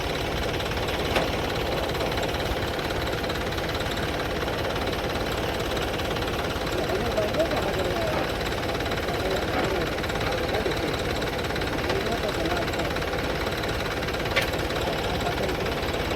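A tractor engine straining while stuck, a steady low rumbling drone with knocking vibration running throughout at moderate level, with no voices.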